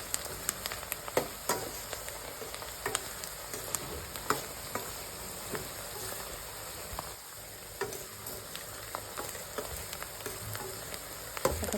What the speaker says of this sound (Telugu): మధ్యలో ఇలా కలుపుకుంటూ ఆనియన్స్ బాగా ఫ్రై అయ్యే వరకు